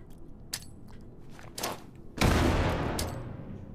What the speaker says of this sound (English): I got loads of grenades. Chuck some grenades in there